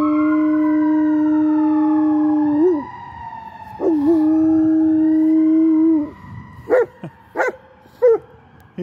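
Dog howling in long, sustained, rising and falling tones, close and fairly loud, ending in a few short broken yelps.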